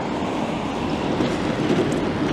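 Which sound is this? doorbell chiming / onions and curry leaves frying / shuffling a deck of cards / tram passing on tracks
tram passing on tracks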